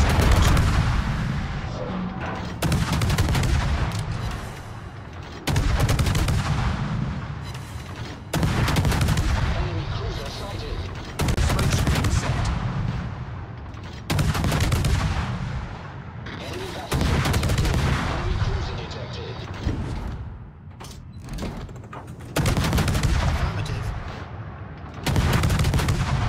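Gunfire and artillery fire in a naval combat video game with destroyers. Long rolling bursts of heavy, booming fire repeat every few seconds, loud and close, separated by short gaps.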